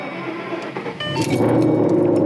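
A Ford Mustang 5.0 fitted with a Boss 302 intake manifold starts up in a garage: a brief key and starter sound, then the engine catches around the one-second mark and settles into a loud, close, rumbling run.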